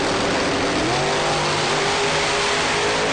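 A supercharged blower drag car launches at a drag strip near Davenport, Iowa, its engine roaring loud and continuous with a rising pitch throughout.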